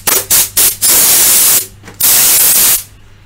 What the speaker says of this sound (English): This is an air blower, just clean that.